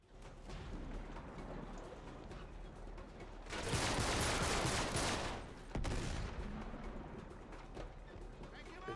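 Rapid gunfire bursts in the video game Uncharted 3, a dense crackling barrage that swells loudly midway and then resumes, with a voice talking over the game noise.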